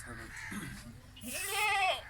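Goats bleat on a livestock farm where bucks are shown for sale, with a drawn-out wavering cry near the end over low background noise and someone talking.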